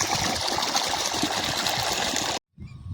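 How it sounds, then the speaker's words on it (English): Water runs steadily from a pipe onto hands being washed, a close continuous splashing stream that cuts off abruptly near the end. "The water is flowing from the pipe."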